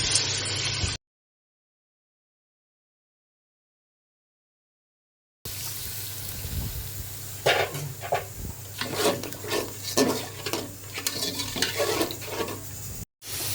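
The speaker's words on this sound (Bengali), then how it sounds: "মশলাটাকে আমি এখন একটু ভালো করে কষিয়ে নেব" Spice paste for a beef-bone and chana dal dish sautéed and stirred in a pan, with scraping strokes over a low sizzle after a brief burst of noise and a long silent gap, no talking.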